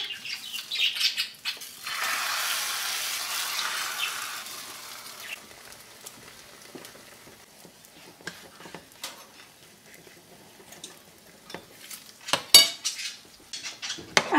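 Utensils clatter and scrape against a pan while a Spanish tortilla is flipped, a burst of sizzling hiss early on followed by scattered metallic clinks and knocks, close and moderately loud, no talking.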